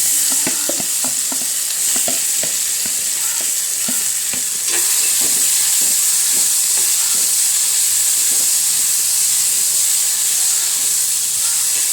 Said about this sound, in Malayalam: നമുക്ക് മാങ്ങ ഇട്ട് കൊടുക്കാം.